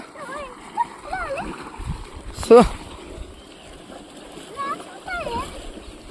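A short, sharp splash of water cuts through ongoing conversation, with people talking before and after it.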